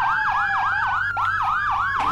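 A police siren in the Roblox video game wails in a fast, repeating up-and-down yelp pattern, loud and steady throughout with no talking.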